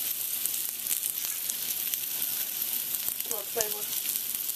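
Cheese cooking in a pan for chili con queso gives a steady broadband sizzle throughout, with a brief voice-like murmur near the end.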